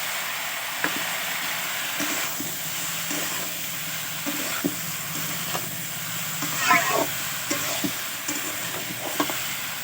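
Pumpkin fries and is stirred in a pan, a steady sizzle broken by repeated scraping and clinking strokes of a spoon at uneven intervals, close and moderately loud, with no talking.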